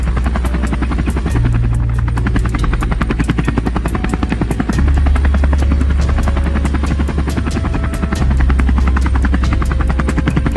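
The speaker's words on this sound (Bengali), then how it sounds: "শিয়াল তার হেলিকপ্টারটিকে নিয়ে ডাইনের বাগানের দিকে যেতে লাগলো।" Cartoon helicopter flies steadily for the whole stretch, a loud, continuous rotor buzz with rapid regular blade chops, over a low engine drone and occasional tonal music notes.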